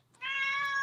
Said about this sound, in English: I'm actually sorry about my cat.